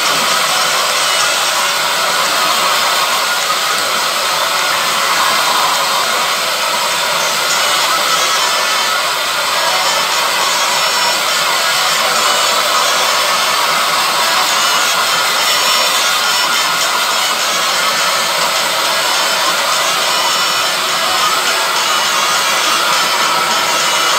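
A hair dryer blows steadily and loudly for the whole stretch, a continuous broadband whoosh with no breaks and no talking over it.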